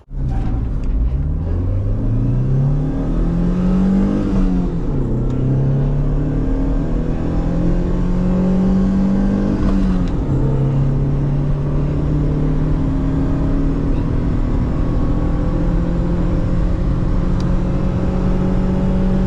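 A modified Daewoo Lanos fitted with a 1.6 engine pulls away hard, its engine note climbing through the revs, dropping at gear changes and rising again as a loud, continuous roar from inside the car.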